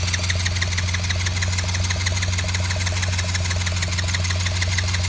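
The engine of a Chinese quad idles on choke with a steady low hum and a fast, even mechanical patter, running alone at moderate level.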